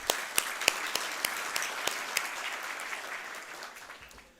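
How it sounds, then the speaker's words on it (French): Audience at an industry morning event applauds, a crowd of clapping hands with a few sharp individual claps standing out, gradually fading away over several seconds. "ça mérite des applaudissements quand même"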